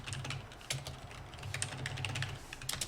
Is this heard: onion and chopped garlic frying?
no